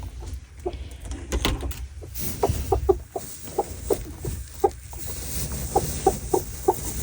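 A brooding hen sitting on eggs clucks in short, repeated bursts, close and fairly loud over a low background hum.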